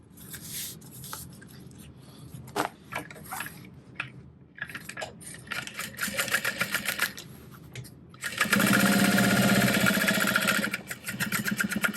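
A sewing machine stitches backpack pieces together for an Elora backpack, its motor running in uneven bursts with short pauses, then settling into a loud, steady stretch of continuous stitching near the end.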